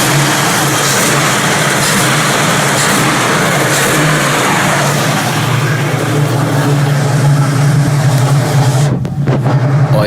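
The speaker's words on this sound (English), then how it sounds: "Here you go, Rusty, a sound of SS69 Camaro, 350 small block, standard steel heads, my summer baby" A 1969 Chevrolet Camaro SS with a 350 small-block V8 and standard steel heads, engine running loud and close with a deep steady rumble and hum that swells near the end, with no talk.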